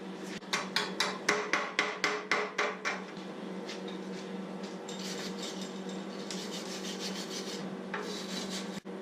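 Flat disc on a grinder smoothing a welded steel frame: a run of about ten rhythmic scraping strokes, then a sustained close abrasive grinding hiss with a steady hum underneath.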